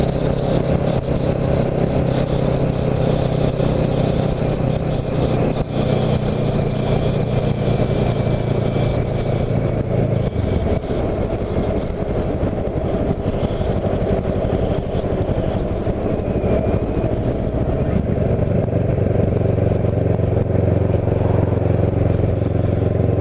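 Kawasaki Ninja 650R motorcycle ridden through Wildwood Crest, a continuous close engine drone with wind rush, pitch dropping and rising as the rider shifts and accelerates, loud and unbroken throughout.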